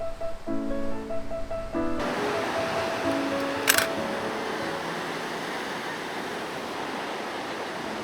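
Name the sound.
ocean waves breaking at the shore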